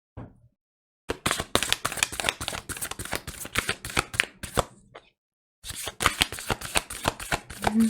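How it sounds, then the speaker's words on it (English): Dense rapid clicking of a card deck being riffle-shuffled, in two bursts separated by a brief pause, close and crisp. "The cards don't usually take this long to shuffle."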